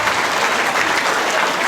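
Audience applause at a quiz show, a dense, continuous burst of clapping from a crowd, loud and even throughout with no voices over it.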